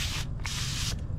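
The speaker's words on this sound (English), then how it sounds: "I'm going to spray this zinnia" A hand sprayer mists a zinnia plant in a zone 9a home garden, three sharp hissing bursts in quick succession, close and loud.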